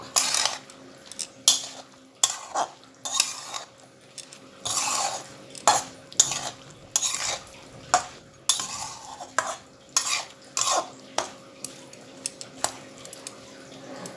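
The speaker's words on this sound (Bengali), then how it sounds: "ভালো করে নাড়াচাড়া করে নেব" A spoon stirs a raw mixture of moka fish, brinjal and chopped onion, giving a steady run of close, rhythmic scraping clinks against the bowl with no talk.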